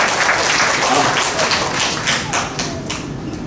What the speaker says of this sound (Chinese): 然后给他们鼓掌一下，好不好？